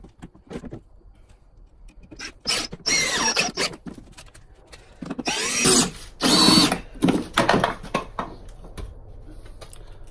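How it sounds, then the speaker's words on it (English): Screws are driven through 2x4s with a power drill for shelf support, several whirring bursts of varying length separated by short pauses, the longest run near the middle; clicks and handling noises fill the gaps. "Screw these 2x4s in the top just to give it a little extra support."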